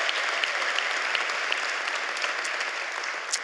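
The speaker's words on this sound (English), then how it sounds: "give yourselves a round of applause" Commencement graduates break into sustained, dense applause, a steady wash of many hands clapping together that holds at an even level with a few sharper claps standing out, filling the ceremony space without voices.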